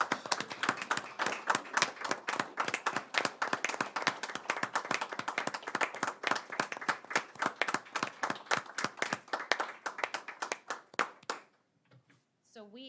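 A room at a county commission meeting breaks into applause: many hands clapping quickly and steadily for about eleven seconds, then thinning to a few last claps before a voice begins.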